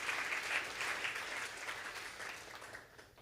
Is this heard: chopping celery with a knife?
no